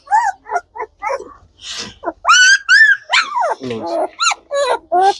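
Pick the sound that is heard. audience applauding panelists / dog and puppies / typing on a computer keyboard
dog and puppies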